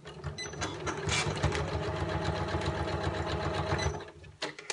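Sewing machine stitching a quarter-inch seam on fabric, a fast steady mechanical whirring chatter that runs for several seconds and then stops, close and clear with no voices.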